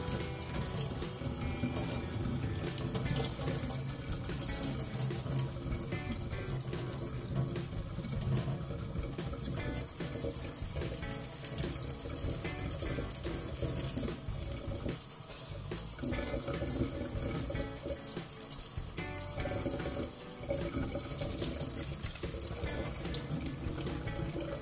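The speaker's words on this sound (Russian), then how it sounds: "Так, холодной воды наберем." Cold water gushes from a tap into a plastic ice gel bag in a strong, steady stream, loud and continuous throughout with no talking.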